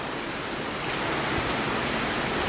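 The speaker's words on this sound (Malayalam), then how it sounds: "ഇവിടെ നല്ല മഴയാണ് ഗൈസ്" Heavy rain pouring down as a dense, continuous broadband hiss, loud and unbroken for the whole stretch.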